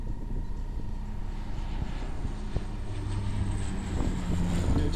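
A large floatplane flies low at an international airshow in Malta, giving a steady, loud engine drone with a broad rumble and faint tonal hums across the whole stretch, and no voices.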